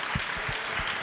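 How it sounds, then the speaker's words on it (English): Audience applause at a live event, a steady wash of clapping filling the whole moment at even loudness with no voices over it. "Yes, please applaud for that."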